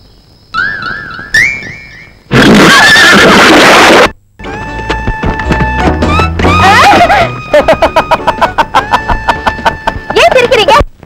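Horses neigh and whinny loudly amid a busy, dramatic Tamil film soundtrack, with rooster-like crowing and clucking mixed in. Sharp rhythmic sound-effect hits follow.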